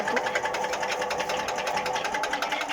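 A homemade chipper chops mulberry branches, giving a loud, steady mechanical drone with a fast, rhythmic chattering pulse that runs without a break and without talk.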